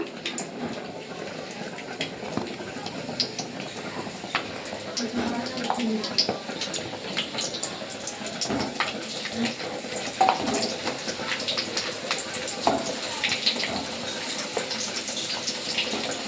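Garlic, onion and chilli fry in a wok (kadai), a continuous close sizzle with a rushing, watery hiss that swells and fades, with a voice talking over it at times.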